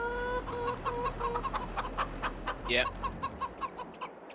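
Game chickens clucking in Farming Simulator 22, a steady run of short repeated clucks with a brief louder squawk, set over a constant low hum and a faint tonal game backdrop.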